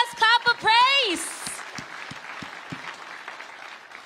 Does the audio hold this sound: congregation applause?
yes